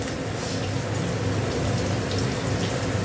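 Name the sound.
water poured into a pan with nigella seeds and turmeric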